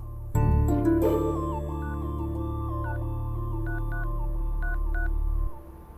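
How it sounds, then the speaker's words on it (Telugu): A phone rings with an incoming call, playing a melodic electronic ringtone of repeating tones that sounds steadily for several seconds and then stops abruptly, with no voices. "మా డాడీ కాల్ చేస్తున్నారు"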